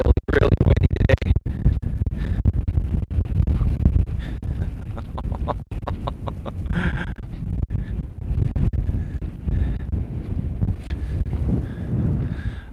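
Heavy gusts of outdoor wind pound the microphone with constant loud low-end rumble and sharp buffeting bursts, unbroken for the whole stretch.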